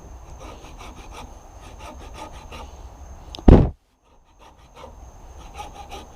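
Rhythmic rasping strokes of a hand saw through fatwood, steady back-and-forth, ending with a sharp crack as a piece breaks off, then quiet scraping.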